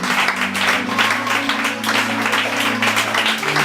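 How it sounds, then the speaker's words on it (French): Congregation in a church service applauding and cheering together, a dense, continuous wash of clapping and voices with steady music underneath throughout. "Est-ce qu'on peut acclamer le Seigneur ce matin?"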